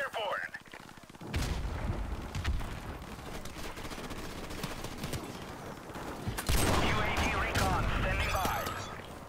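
Call of Duty Modern Warfare Remastered gunfire: dense bursts of rapid shots and blasts, with a quieter start before a loud stretch of firing that swells again near the end, voices faintly mixed in.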